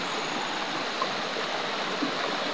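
Water flows steadily in a shallow creek past rocks, a continuous close rushing and babbling with small gurgles, heard alone without voices.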